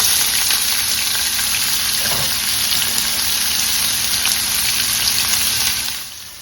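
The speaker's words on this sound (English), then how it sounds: "So we're gonna saute these." Ingredients for Jamaican escovitch fish sautéing in the same oil used to fry the fish, a loud, dense, steady sizzle close up that drops off sharply at the very end, no talking.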